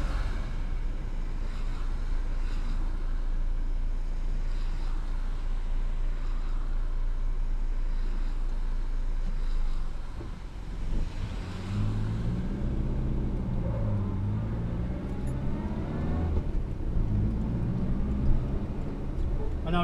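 Morris Minor car driving, its steady low engine drone and road rumble running throughout from inside the cabin, with a voice talking over it in the second half.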